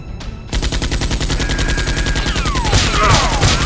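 Rapid rhythmic gunfire in a staged Nerf war battle scene as soldiers shoot while moving, a steady close automatic rattle running continuously for over three seconds with a whistling sweep layered on top.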